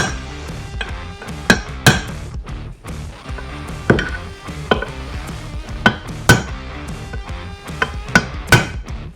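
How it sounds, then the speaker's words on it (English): Sharp metallic hammer-and-punch strikes on bolts of the main bearing retainers in a Yamaha YFZ450R engine case, a dozen or so close, loud taps in irregular bursts with short pauses between, no talking. "we will just punch down the bolts on those main bearing clip retainers"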